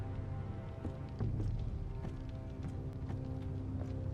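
Steady clip-clop of horse hooves trotting along over a constant low rumble, no voices, in the video game Game of Thrones: A Telltale Series.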